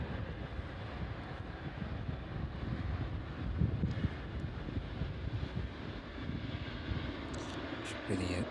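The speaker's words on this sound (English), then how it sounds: "Should be the 777 just behind there." Boeing 777 at East Midlands Airport in the evening, a steady distant jet engine roar with wind rumble, holding level for several seconds and faintly swelling toward the end.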